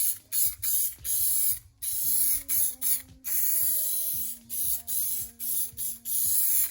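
Lacquer sprayed from an aerosol can over freshly painted fairing on a Yamaha FJ1200 motorcycle, in a quick run of short, close hissing bursts over a low steady background hum.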